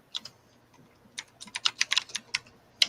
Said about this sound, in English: So the T Perfect typing like crazy. Typing away.